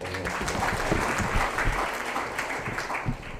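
A room full of people at a university graduation ceremony claps steadily for a few seconds, a dense, even wash of applause heard from within the crowd.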